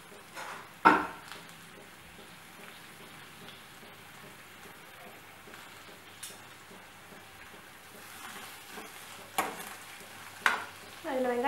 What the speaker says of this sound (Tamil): அந்த வெங்காயம் போட்டு நல்லா வதக்கிக்கோங்க.